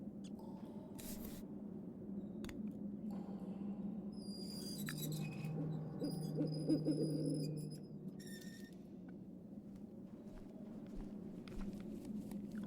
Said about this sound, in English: Why did that prayer thing sound like an owl?